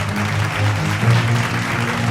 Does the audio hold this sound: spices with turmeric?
no